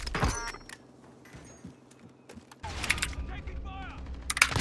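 Gunfire and explosive impacts in a military combat video game, with a loud burst at the start, quieter mechanical clunks through the middle, then a louder sustained stretch of firing and blasts toward the end; no clear speech.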